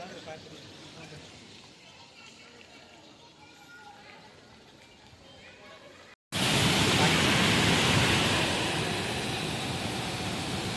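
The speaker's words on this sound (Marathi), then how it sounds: "मित्रांनो आपण आलेलो आता टॉमेश्वरी धबधबा जवळ" Tomeshwari waterfall heard up close, a dense, loud, continuous roar of rushing water that bursts in after a brief gap, preceded by quieter outdoor ambience.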